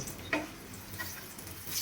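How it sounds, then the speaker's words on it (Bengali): Steady crackling sizzle of potato chops deep frying in hot oil, with a soft clink near the start and a continuous bubbling hiss throughout. "গরম তেলে প্রত্যেকটা চপকে উল্টে পাল্টে বেশ লাল করে ভেজে নেব"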